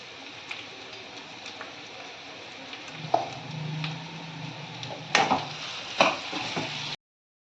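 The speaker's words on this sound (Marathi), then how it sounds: "मीठ टाकून असं मिक्स करून घ्यायचं साबुदाणे आणि शेंगदाणे" Sabudana and peanuts stirred with salt in a pan, a soft dry scraping and sizzling with a few sharper spoon knocks near the end, close and unaccompanied by voices.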